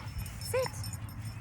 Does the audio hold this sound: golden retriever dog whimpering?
yes